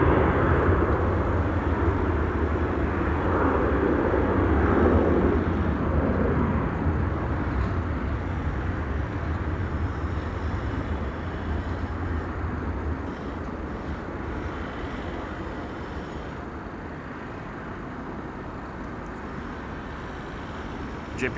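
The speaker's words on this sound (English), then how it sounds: "The 737-800 to split in Croatia, flight 1971." A Boeing 737-800 bound for Split, Croatia, at Amsterdam Schiphol Airport gives a sustained, broad jet roar that holds steady for a long stretch and slowly eases off, with no voices.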